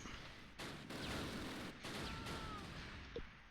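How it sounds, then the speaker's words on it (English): Machine guns open fire in the World War II strategy game Close Combat Last Stand Arnhem, a faint, distant rattle of sustained bursts under a low rumbling battlefield ambience. "All right, MG's opening up."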